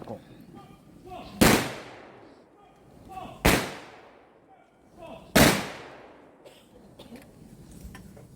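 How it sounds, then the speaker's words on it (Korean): An honor guard fires three rifle volleys as a salute at an outdoor memorial ceremony for a former president, each sharp crack spaced about two seconds apart and echoing away, with faint murmuring in between. "의장대 조총 발사"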